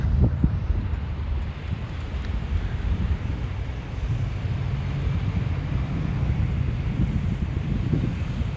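Wind gusts steadily across the microphone beside a burning riverbed in Oildale, producing a constant low, buffeting roar with no break.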